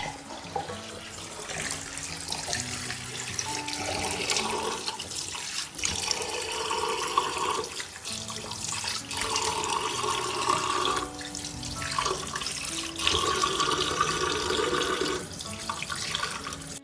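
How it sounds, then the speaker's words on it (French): A bathroom tap runs steadily into a sink while a face is washed by hand, with a continuous close splashing flow and irregular louder splashes throughout, no voices. "Je vais laver mon visage."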